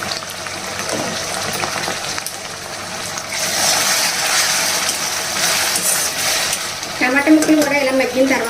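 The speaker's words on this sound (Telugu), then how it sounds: "చక్కగా వేయించాలి." Vegetables frying in a pan, a steady loud sizzle with stirring scrapes, getting busier midway, while a voice speaks briefly near the end.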